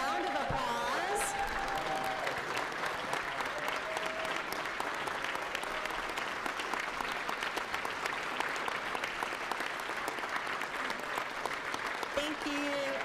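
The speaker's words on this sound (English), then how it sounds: "If you can stand up and if we can all give them a round of applause." Sustained applause from lawmakers and gallery guests fills a legislative chamber during a session day, steady and dense throughout with some faint voices mixed in.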